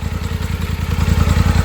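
A Polaris Sportsman 850 ATV engine idles steadily at about 1300 rpm close by, its low, rhythmic chugging pulsing evenly with a slight mechanical clatter.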